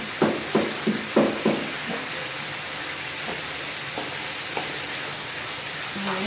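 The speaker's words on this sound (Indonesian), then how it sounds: "ini kita tumis sampai harum" Spices for sayur lodeh sauté in a pan with a steady sizzle, opened by a quick run of about five scraping stirs, then softer occasional stirs over the continuous frying hiss.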